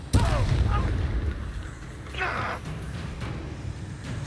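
Blasting spell impacts in Hogwarts Legacy, a sharp burst at the start followed by rumbling booms and a second crackling blast midway, amid continuous combat noise.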